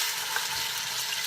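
Meat sears in a Quick Cooker pot, a steady close-up sizzle and crackle of frying that runs continuously with no talking.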